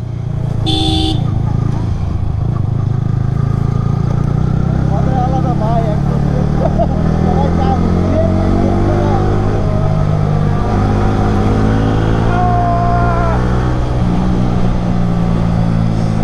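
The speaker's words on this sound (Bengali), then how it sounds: "গাড়িতে হচ্ছে এক্সজস্ট লাগানো, এক্সজস্টের সাউন্ড শুনে সব শান্তি" Motorcycles fitted with aftermarket exhausts ride in a line through the Bandarban hills, with a loud, continuous engine drone, a brief horn toot near the start and rising revs throughout.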